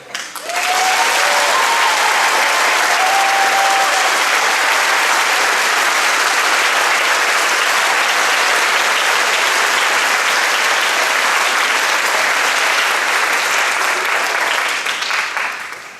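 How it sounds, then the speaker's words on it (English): Loud, sustained applause from a large audience at a high school band concert, starting abruptly and holding steady for about fifteen seconds before tapering off, with a few faint whistles early. "give all four groups the biggest round of applause you can"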